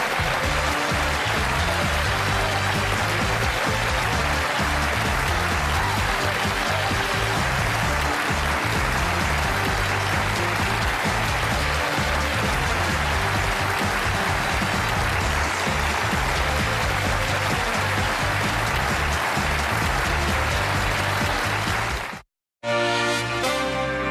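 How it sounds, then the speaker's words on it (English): Sustained studio audience applause on a 1986 late-night television talk show, dense and steady throughout, ending abruptly near the close. "I'm humbled by that applause."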